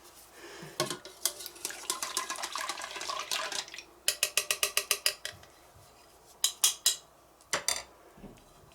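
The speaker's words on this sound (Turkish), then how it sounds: "döşediğimiz yufkaları maden suyuyla hazırladığımız sosumuzu şimdi artık dökebiliriz" A sauce made with mineral water is poured over layered yufka pastry sheets in a baking tray for a börek. Liquid splashes and streams, with sharp clinks and clatter of dishes and utensils close by, and no talking.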